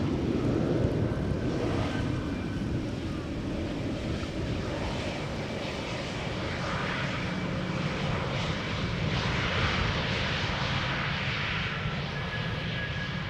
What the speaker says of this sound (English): Aegean, most likely arriving from Athens, landing on the center runway